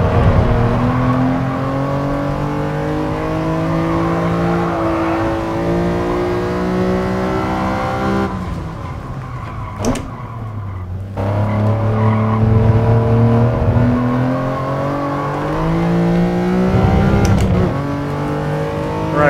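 A race car in Gran Turismo Sport revs hard toward 10,000 RPM, its loud engine note climbing in repeated sweeps, with a brief drop and pause midway before it winds up again, alongside some tire squeal.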